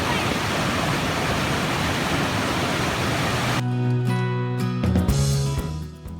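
The Evolution River rushes beneath a bridge on the John Muir Trail, a loud, dense, steady roar of water that cuts off about halfway, giving way to tonal sounds.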